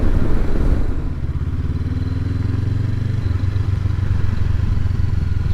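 A Honda CB500X motorcycle being ridden, its engine giving a steady, loud low drone mixed with road and wind noise throughout.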